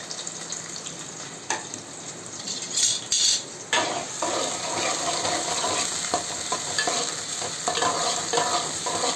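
Chopped onions and green chilies frying in a pan for a raw prawn curry, a steady bright sizzle with occasional scraping stirs and utensil clinks close by.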